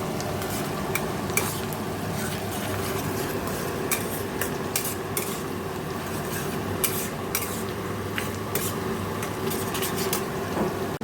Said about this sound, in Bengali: ফোড়ন দিয়ে তেল দিয়ে পেঁয়াজটা ভাজছি